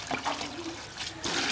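Rice washing water poured onto young chili seedlings, a soft, close splashing trickle running steadily for about a second and a half.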